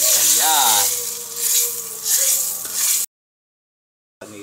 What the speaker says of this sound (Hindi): ये हमने तड़का डाला है